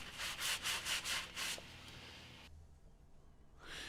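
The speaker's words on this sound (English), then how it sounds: "Don't forget to wipe up any oil that has spilt around the bottom of the sump or on the floor" A rag wipes up spilt oil beneath the sump of a 2008 Renault Laguna III 2.0 dCi diesel, making about six rhythmic rubbing strokes close by, then a quiet pause before a faint final wipe.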